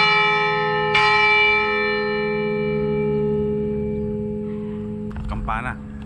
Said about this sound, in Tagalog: Kampana.